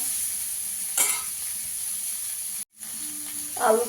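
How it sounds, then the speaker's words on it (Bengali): Potatoes fry in oil in a wok, a quiet continuous sizzle with a couple of louder stirring scrapes and a brief dropout midway. No talking. "আলুগুলো একটু লাল লাল করে ভেজে নেবো।"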